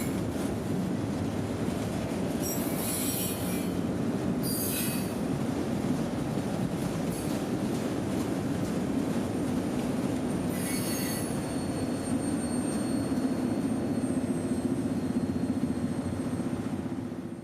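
A freight train with Y&2 locomotives on old rails in Florida's Bone Valley rolls past nearby, a steady rumble and clatter of cars with sharp high wheel squeals cutting in repeatedly, no voices.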